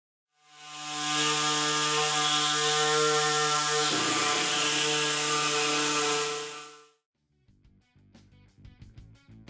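Loud high-pitched whine of a power tool cutting through a fiberglass truck bed side on a Silverado prerunner, starting up, running steadily for several seconds with a load change midway, then winding down, followed by faint clatter.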